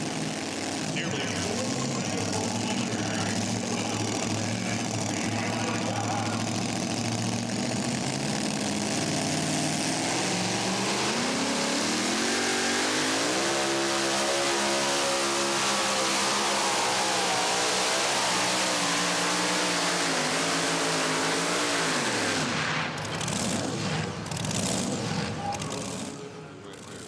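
Pulling tractor engine at an NTPA Super Nationals pull in Tomah, Wisconsin, building to a loud sustained roar with rising pitch as the throttle rolls on, then dropping away near the end, heard from the stands.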